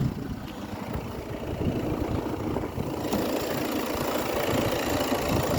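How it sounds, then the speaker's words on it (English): A 2019 VW Tiguan 2.0 Bi TDI twin-turbo diesel with 37k miles idles with the bonnet open, a steady, close, rough mechanical rumble with light ticking that holds throughout. "So there we have it, the 2-litre twin turbo engine, the bi-turbo."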